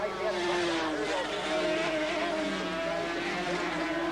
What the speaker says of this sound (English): Mixture of two-stroke and four-stroke, racing bikes, production-based bikes.